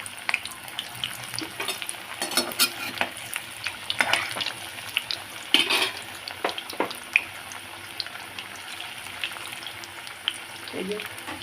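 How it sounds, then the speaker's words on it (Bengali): Round pieces fry in hot oil in a wok, giving a soft continuous sizzle with occasional stirring scrapes and clinks at close range. "এই যে ভাজা চলছে"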